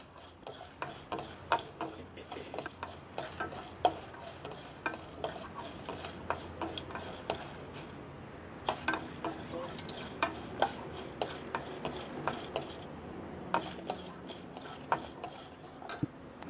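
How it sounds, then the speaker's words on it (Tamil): Hog plum (Spondias pinnata) leaves sauté in a little cooking oil for a herbal chutney, a soft sizzle under steady rhythmic scraping and tapping of a ladle against the pan, close up with no voices. "இந்த மரிமாங்காய் இலையை போட்டு சிறிதளவு நம்ம சமையல் எண்ணெயை சேர்த்து வதக்க"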